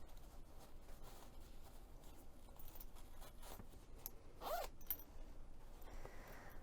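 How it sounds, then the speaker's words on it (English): A zipper on a handmade tote bag is slowly unzipped during sewing, giving faint, close, continuous scratchy rasps with a brief louder pull near the end, and no talk. "I found it easiest to unzip the zipper to sew it in place."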